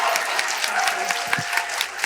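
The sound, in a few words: audience applauding after a talk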